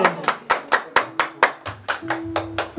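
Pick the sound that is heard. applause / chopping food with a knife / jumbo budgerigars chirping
applause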